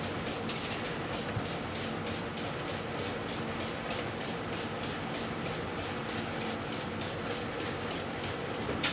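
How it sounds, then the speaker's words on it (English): A spray bottle is pumped over and over in a quick, even rhythm, spraying water onto a T-shirt laid flat, each hissing burst close to the microphone. "spray it down with water so it's pretty wet"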